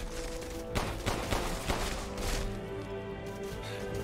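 Gunfire in the Resident Evil Village video game, heard as a dense, loud barrage of repeated shots and blasts layered over busy game sound, with no talking.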